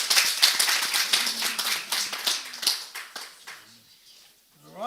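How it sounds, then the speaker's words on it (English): An audience claps at a Year 11 principal awards ceremony, quick sharp claps from many hands that thin out and fade to a few scattered ones, ending with a brief voice. "Big round of applause"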